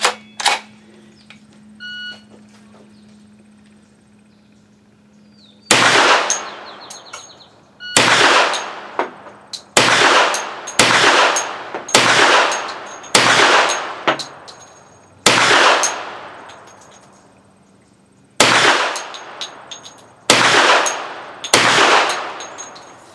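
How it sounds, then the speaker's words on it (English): A Hi-Point 1095 10mm carbine fires 180-grain rounds: about a dozen loud, sharp outdoor shots at irregular intervals, each with a short echoing tail, after a quiet opening stretch. "These are the first shots out of it."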